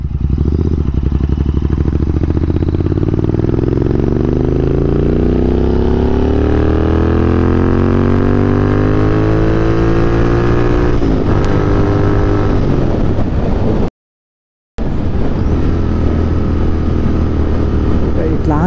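Royal Enfield Continental GT 650 twin-cylinder engine being ridden, loud and close, its pitch sweeping upward steadily as it accelerates through the gears, then dropping out briefly before resuming; a rider's voice talks over the engine.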